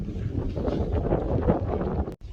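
Gusty wind buffeting the microphone at an outdoor campsite, a continuous low rumble that cuts out briefly near the end.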